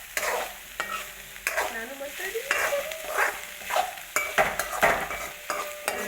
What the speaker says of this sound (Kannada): ಎಲ್ಲ ತರಕಾರಿಗಳನ್ನ ಚೆಂದಾಗೆ ಕರಿಬೇಕು